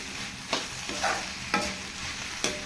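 Shredded cabbage for poriyal sautés in a pan with a constant sizzle, broken by four distinct scraping stirs of a spatula at regular intervals.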